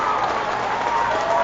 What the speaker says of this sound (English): And listen to this crowd, Joe